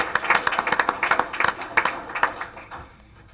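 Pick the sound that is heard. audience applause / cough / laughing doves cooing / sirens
audience applause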